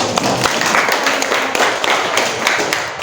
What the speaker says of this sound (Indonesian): Oke, terima kasih Nak Happy, tepuk tangan dulu.